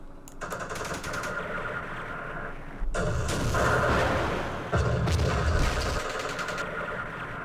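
Gunfire from units in the Campaign Series Vietnam war strategy game, Battle of Mao Khe: repeated bursts of machine-gun fire and heavier booming volleys crackle loudly in overlapping waves.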